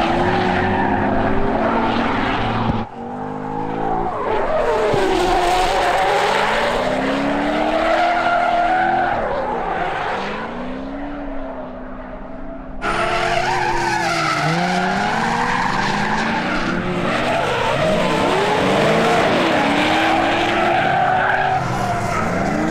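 A V8-swapped BMW E36 drifts at a Texas drift event, its engine roaring loud and close while tires skid and squeal in long sweeping bursts, with a brief dip before another aggressive pass.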